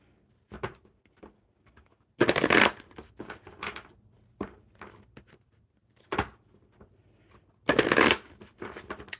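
Enchanted Map Oracle cards are shuffled in short, loud riffling bursts separated by quieter pauses and light handling sounds, close to the listener, with no speech.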